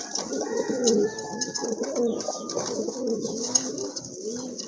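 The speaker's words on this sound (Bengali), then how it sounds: "আরেক জোড়া কবুতর, সুয়াচন্দন কবুতর, খুবই চমৎকার কালার কবুতরগুলোর" Suyachandan pigeons coo in a steady, overlapping stream of low throaty calls, close and fairly loud, with no talking over them.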